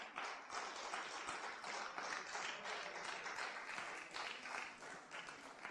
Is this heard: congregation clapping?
yes